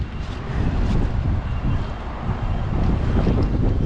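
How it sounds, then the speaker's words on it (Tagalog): Strong wind gusts over open water buffet the microphone with a dense, continuous roar, loud and close, with a faint wash of waves beneath. "Tingnan nyo naman po yung tubig kung gaano kalakas yung hangin."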